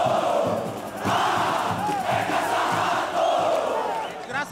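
Large stadium crowd of Santa Cruz football fans roaring and chanting during a title celebration, a loud continuous wall of voices that swells and dips.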